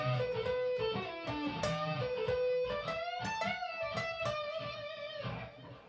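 An electric guitar plays the opening of a solo, a fast melodic lead line of bending, shifting notes with a slightly distorted tone, heard alone and up close.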